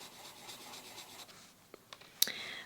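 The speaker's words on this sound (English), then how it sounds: "I can even pick it up from the sound of the paper, how the pencil is going on." Coloured pencil strokes scratching across paper, a soft continuous scraping close by, ending in a few sharper taps and scratches.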